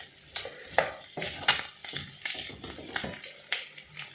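Potatoes and smoked bacon lardons frying in a pan, a steady close sizzle broken by scraping stirs and a few sharp utensil clinks against the pan.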